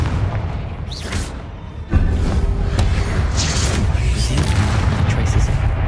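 A Confringo blast spell fired in Hogwarts Legacy, landing as a sudden loud boom that gives way to a sustained rumbling roar, with a whooshing build-up just before.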